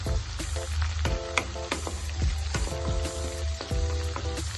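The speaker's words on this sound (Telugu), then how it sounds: "వెల్లుల్లి వేగిద్ది." Chopped garlic, green chillies, cumin, cinnamon, cardamom and cloves sizzle steadily in hot oil for a dhaba-style cashew masala curry, with a dense continuous crackle broken by sharp spatters and occasional utensil clinks.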